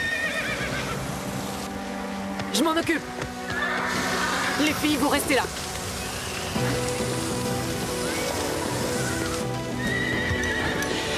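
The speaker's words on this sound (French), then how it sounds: "Les chevaux!" Horses whinny loudly twice over steady rain and clopping hooves, with a voice speaking urgently nearby.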